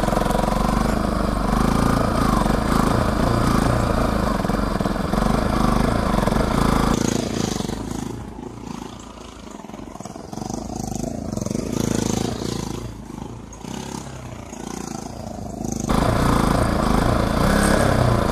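A motorcycle ridden in first gear through turns by a beginner: a continuous engine drone blended with rushing wind, easing and thinning midway before swelling again.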